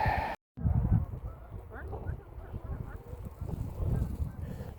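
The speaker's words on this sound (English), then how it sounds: "A few Canadian geese?" Canada geese honk in short, scattered calls over a busy outdoor background, moderately distant and partly masked.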